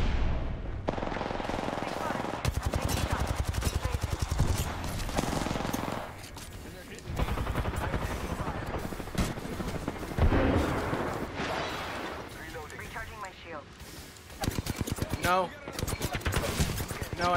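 Apex Legends gunfire rattles in dense automatic bursts, fairly loud and nearly continuous, with brief gaps between volleys and players talking over it.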